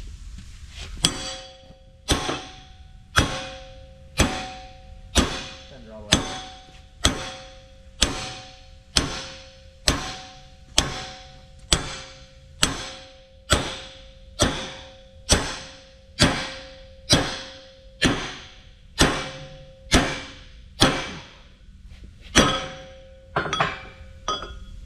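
Evenly spaced metallic hammer taps on the side of a Cat D9R equalizer bar, about one per second, each ringing briefly with a clear metallic tone, repeated over twenty times.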